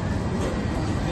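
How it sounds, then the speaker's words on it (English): Train station ambience: a brief, steady wash of low rumbling and broad noise with no distinct events, like a train or a busy platform nearby. "Still at the fucking train station, mate."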